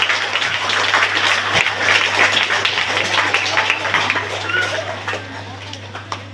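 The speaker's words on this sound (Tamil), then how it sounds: "கைத்தட்டு கம்மியாயிருக்கு" An audience at a name-calling ceremony gives a burst of clapping under a loud, steady mains hum, an even wash of hands with a few sharper claps, while a voice speaks.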